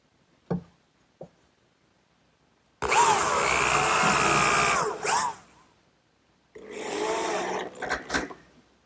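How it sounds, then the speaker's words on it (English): A power drill drives screws into the back of a wooden corner cupboard in a workshop: two short whirring bursts, the second ending in sputtering pulses, after a couple of sharp knocks, with no speech. "I'll fasten the back the same way I did with that first side. Just a few screws aligning it with my layout marks."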